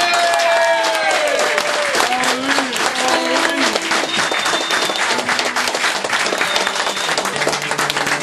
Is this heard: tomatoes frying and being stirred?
no